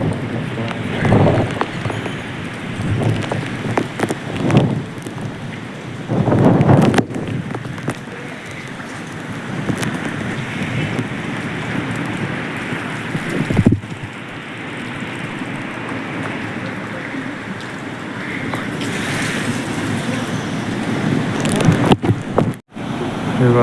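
Rain falls at the Sateri Mahadev hill temple near Kolhapur, a fog-bound spot with a metal-sheet shelter, making a steady broad wash of hiss with gusty surges and occasional sharper spatters throughout.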